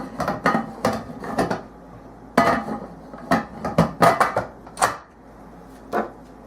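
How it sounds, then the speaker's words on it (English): A pressure cooker lid is fitted onto a pot of beef stew with a series of irregular, close metallic clanks and clatters, some in quick clusters, separated by brief quiet gaps, with no talking. "Put our lid on."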